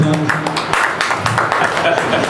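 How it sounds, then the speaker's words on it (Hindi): Audience applause at a patriotic poetry gathering on the eve of 15 August in Mughalsarai, a short burst of scattered clapping mixed with voices and talk, moderately loud and close. "तालियों के साथ।"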